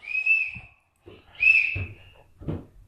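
Two clear, high whistle notes sound in turn, each held briefly, with a few soft clicks and thumps between them.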